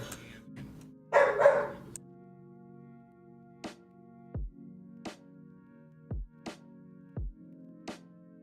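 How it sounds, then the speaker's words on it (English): A dog lets out a quick cluster of barks nearby, then the room settles into a low hum broken by several short, evenly spaced blips and thumps. "This dog won't stop."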